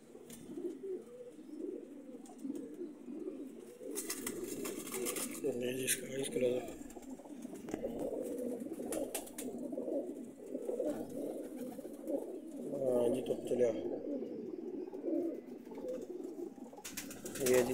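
Teddy pigeons at a breeder's setup coo continuously in low, rolling calls close by, with someone talking over them throughout.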